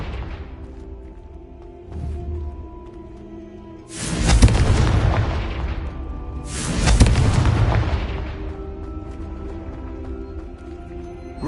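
Two heavy explosions from the Confringo blasting spell in a Harry Potter video game, each a loud booming burst that rumbles and fades over a couple of seconds, set against a quiet game background.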